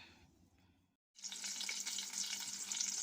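A single egg fries in a pan on a stove, with a quiet clatter before a short silence and then a steady, close hissing sizzle.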